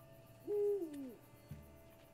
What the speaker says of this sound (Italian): gufo.